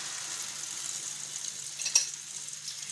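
Egg mixture for a Spanish omelette fries in oil in a pan over low heat, a steady soft sizzle with a brief louder crackle just before the end.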